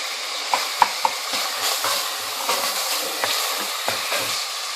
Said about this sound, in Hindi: अब ये तेल गर्म हो चुका है और मैंने इसमें डाल दिया और ये कीमा मैंने भून लिया